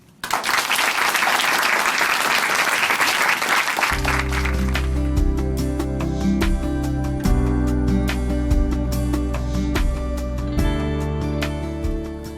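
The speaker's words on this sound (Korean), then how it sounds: "박수로 모십니다" A church congregation applauds to welcome a speaker onto a Christian television program, a loud burst of clapping lasting a few seconds before music takes over and plays on alone.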